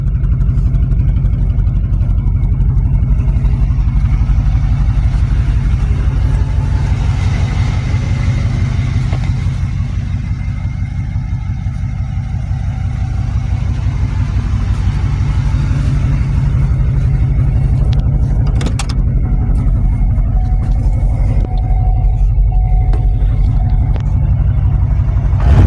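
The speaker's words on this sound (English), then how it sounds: "Great-grandpa's truck that was passed down to me" A 1987 Ford F-250 pickup truck engine idles and runs steadily, a loud, close, low rumble that holds throughout with slight swells and no voices.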